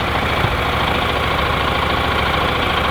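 An off-road motorcycle engine idles right after starting, a close, loud, steady low rumble with an even rapid pulse and no break.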